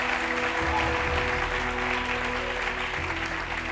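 A church congregation claps together to acclaim God, a full, continuous roar of hands throughout, with music or organ tones sounding beneath the applause.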